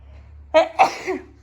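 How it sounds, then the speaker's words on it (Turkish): A single close, sharp sneeze in a home, a quick two-part burst followed by a short exhale, against near silence. "Ondan sonra böyle hapşırıyoruz ediyoruz"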